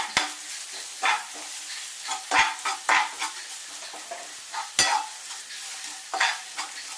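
Turmeric stirred into sautéed onions in a pan, with repeated close scraping strokes and occasional knocks of the spoon over a soft sizzle, irregular in rhythm and without talk.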